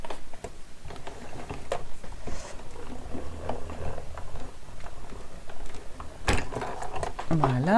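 A die-cutting machine presses a sheet of corrugated card through with a grey plate, producing a steady run of ticking, ratcheting mechanical clicks close by, ending in a sharper clunk.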